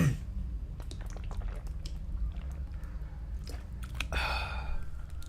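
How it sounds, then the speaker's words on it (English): A person drinks water with wet, gulping swallows and soft mouth noises up close, ending in a louder slurping gulp near the end. "Am I gonna make this sound all of the times that I drink water?"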